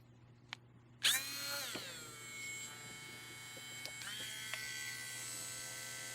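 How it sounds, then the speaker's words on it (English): A small power drill whirs up sharply and runs steadily with a high buzzing whine, close up, briefly shifting pitch as it bites into an earring piece. "Let's drill another hole"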